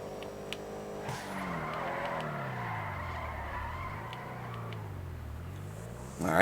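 A car power-sliding in GTA 5 with a sustained tire squeal, wavering in pitch over a steady engine drone for several seconds, moderately loud and alone.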